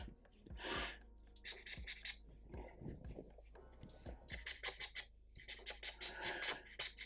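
A pencil scratches short, rough strokes on paper to draw fur on a Smilodon sketch, with close, faint, irregular rasping bursts and brief pauses between them.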